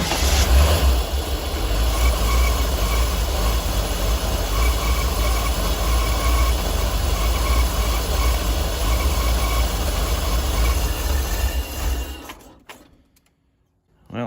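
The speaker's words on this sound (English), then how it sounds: "this thing should start and run idle on its own now" A C4 Corvette engine runs roughly with a loud, steady low rumble, sputtering unevenly for about twelve seconds before abruptly cutting out into near silence, then a brief sound returns at the very end.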